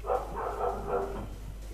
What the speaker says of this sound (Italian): si stanno ammazzando i cani sotto casa mia